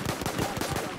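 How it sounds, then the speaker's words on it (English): An anti-aircraft gun in Battlefield 1 on the Monte Grappa map, firing a rapid run of about eight loud, evenly spaced shots. "They are using the AA gun to kill them."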